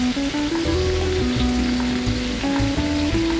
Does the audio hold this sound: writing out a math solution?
no